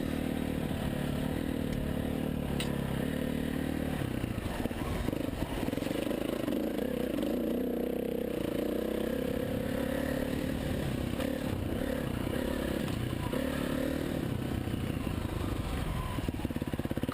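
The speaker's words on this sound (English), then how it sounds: "After I brought the KTM back, it was Chris's turn to take it for a spin." A KTM 350 dirt bike ridden off-road on forest trails, its engine droning steadily throughout with rising and falling revs, mixed with clatter and scraping from the terrain, fairly loud and continuous with no voices.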